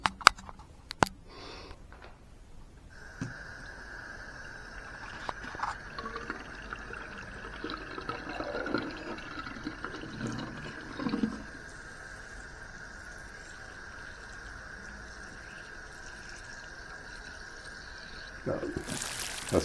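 Tap water pouring into a potted orchid during watering, a steady trickle with a sustained high tone running through most of the stretch, fairly quiet, with a few clunks and handling noises at the start.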